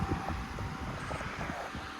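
A ceiling fan running at medium speed, its motor giving a steady low whirring hum with a broad airy rush that holds constant throughout.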